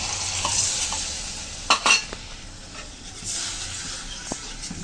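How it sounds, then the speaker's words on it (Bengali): Spice masala for a shing fish curry sizzles steadily in a pan as water is poured in, with a brief louder burst of hissing and stirring scrapes midway; no talking. "এখন দিয়ে দিচ্ছি মশলার বাটি দিয়ে জল।"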